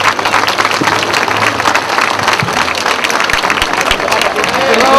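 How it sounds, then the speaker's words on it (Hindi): Audience at an Independence Day program in Patparganj applauds loudly and continuously, a dense wash of clapping with crowd murmur and stray voices mixed in. "तालियां बजाइए।"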